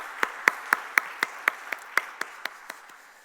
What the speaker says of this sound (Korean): 다시 한번 격려의 박수 올려드리겠습니다